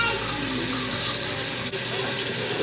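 Tap water running steadily into a sink, a continuous close hiss and splash with a brief interruption midway.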